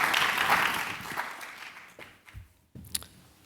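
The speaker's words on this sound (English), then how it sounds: "Please give a round of applause for a great panel." Applause for a panel at a patient-centered care discussion, a soft wash of clapping that fades out within a couple of seconds, followed by scattered faint knocks and rustles.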